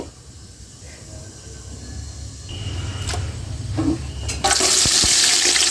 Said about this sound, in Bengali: এখানে গরম মশলা দিলাম তেলের ভিতর আর খিচুড়ি তো সরিষার তেল দিয়ে রান্না করব